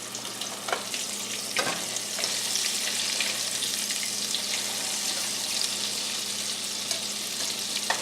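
Falafel tinted with roasted red pepper frying in a pan just after being flipped, a steady broad sizzle throughout with a few brief crackles and pops, no talking.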